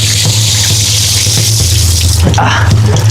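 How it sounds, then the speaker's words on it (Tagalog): A strong stream of cold water gushes steadily from an old pipe near a World War II Japanese tunnel on Mount Maculot, loud and continuous throughout with a brief splash toward the end. "Ganyan kalakas yung laman ng tubig."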